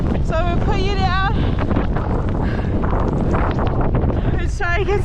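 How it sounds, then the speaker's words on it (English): Strong 40 mph wind gusts of a blizzard roar across the microphone in a steady, loud rush. A voice speaks over the buffeting at the start and again near the end. "We're getting 40-mile-per-hour gusts and it's really starting to get nasty out."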